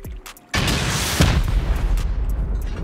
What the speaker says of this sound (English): It's a shotgun trap.